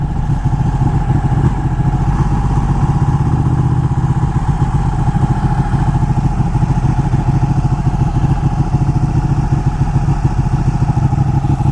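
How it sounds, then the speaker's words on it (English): Ducati 1299 Panigale superbike engine running loud and close, a steady deep rumbling drone with constant mechanical clatter throughout, no pauses or voices. "this is a Ducati 1299 Panigale"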